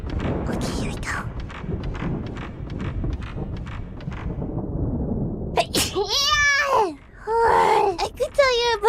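A sneeze from a streamer, heard close after a stretch of busy rhythmic background noise, followed by higher voiced squeaks and short vocal sounds.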